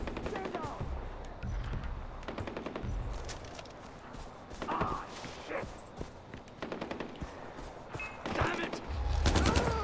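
Rapid bursts of automatic gunfire repeat through a firefight in the shooter Far Cry 4. Volleys from several guns sound near and far, and someone briefly speaks between shots.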